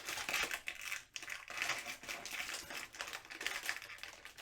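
Gold paydirt from a thin 1 lb sack pours and rattles out onto a surface, a continuous gritty crunching and crinkling of dry gravel and plastic bag, close and fairly loud with brief pauses.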